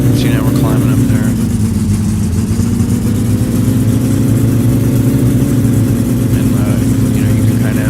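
A car engine in the video game My Summer Car revs steadily through its mid range, a continuous droning tone that rises slightly and holds loud for the whole stretch, with a voice talking over it at times.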